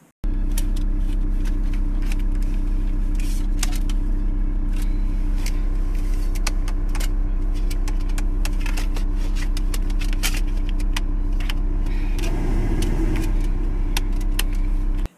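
A VW T4 van with a faulty front ventilation idles steadily with a low, constant engine drone, and small clicks and rattles come from inside the cab; no clear shutdown or restart is audible.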